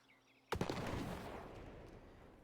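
A charge detonates in The Oregon Trail game with a sudden sharp blast, then a long rumbling roar that slowly fades over a couple of seconds.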